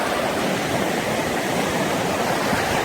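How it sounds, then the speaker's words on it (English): A river flows in a steady, loud, broadband rush of water, close and continuous, heard alone without talk. "there's the river"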